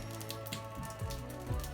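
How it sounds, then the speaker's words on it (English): Rain falls into a house under renovation with the kitchen torn out, a steady soft patter and scattered drips landing on wood floors, close and faint under a low constant hum. "it's obviously raining through our house at this moment"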